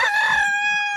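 A single short bird call, a clear tonal chirp that drops slightly in pitch and lasts about a second, close and distinct over a quiet background.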